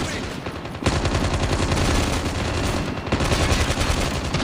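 Dense, continuous bursts of automatic gunfire from the Call of Duty Mobile video game, loud and close, with rapid overlapping shots that briefly drop away near the start and again around three seconds.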